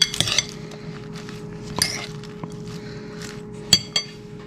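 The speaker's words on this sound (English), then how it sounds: "we might continue just stirring this a little bit here and there" Metal utensil clinking and scraping in a stainless steel pan while stirring food for chicken wonton tacos, a few sharp clinks spaced out over quiet kitchen background.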